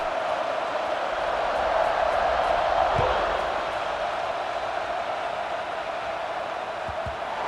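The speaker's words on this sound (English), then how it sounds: "this crowd is buzzing after that last score" A stadium crowd in a college football video game buzzes and roars as a steady, dense wash of noise after a score, with no clear voices standing out.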